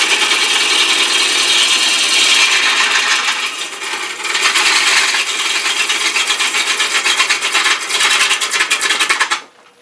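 A 5/8 inch bowl gouge cutting green Bradford pear on a lathe, loud continuous scraping and shearing wood noise with slight rhythmic variation, cutting off near the end.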